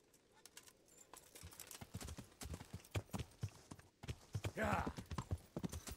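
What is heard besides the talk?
horse hooves clip-clopping in video game Kingdom Come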